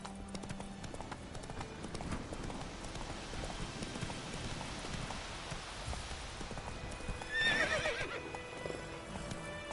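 A horse in The Witcher 3: Wild Hunt clip-clops along with steady, rhythmic hooves over a rain-like ambient wash, and a brief neigh rings out near the end.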